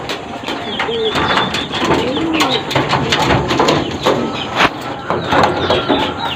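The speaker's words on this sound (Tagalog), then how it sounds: "Tatawagin ko yung ating mga ibon." Pigeons in a loft coo repeatedly at close range, soft throaty calls overlapping with occasional wing flaps and clatter, as a keeper calls the birds in.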